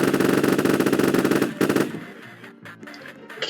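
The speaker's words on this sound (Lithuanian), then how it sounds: "dabar mane puolus šaudo" Rapid automatic gunfire in a Roblox video game, a loud continuous burst of evenly spaced shots for about a second and a half, then a brief final burst before fading into quieter game sounds.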